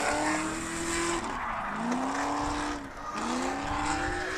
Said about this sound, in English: Just feathering the throttle because that tire is about to go